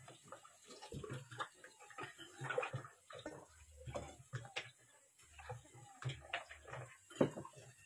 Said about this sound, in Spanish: Te voy a echar agua.